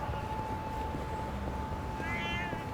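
A cat meows in the video game Yakuza: Like a Dragon, one short rising mew near the end over a low hum with a steady tone, fairly faint in the mix.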